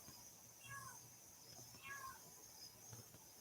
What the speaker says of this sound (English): Cat, you ain't gonna be meowing like that all night.